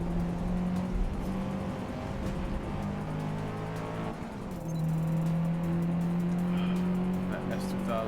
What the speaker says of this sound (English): let's hit the gas so that way my wheels actually turn